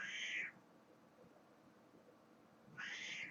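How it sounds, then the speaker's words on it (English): A pet cat meows twice, one short loud cry at the start and another near the end, with a quiet room in between and no talking. "I think my cat's mad at me that I was gone all day."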